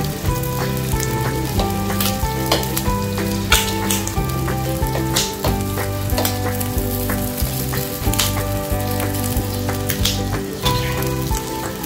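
Meat for sisig fries in hot oil with a continuous dense sizzle and crackle, steady and close throughout, with occasional sharper pops and no talk.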